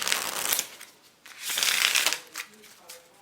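A Star Wars vehicles playing card deck, thick with a smooth finish, is spread and handled, giving two bursts of close papery riffling and sliding separated by a brief pause, with a few lighter card taps at the end.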